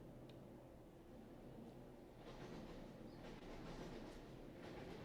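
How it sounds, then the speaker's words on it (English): Train passing nearby, a faint, steady low rumble with soft rhythmic clatter that swells slightly toward the end, heard on its own without speech. "That is a train."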